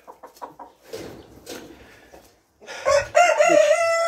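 Rhode Island and Brahma chickens cluck in short close bursts, then a rooster lets out a loud, drawn-out crow near the end.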